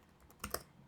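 A couple of quick keystrokes on a computer keyboard, two close clicks in the middle of a short quiet moment, with no talking.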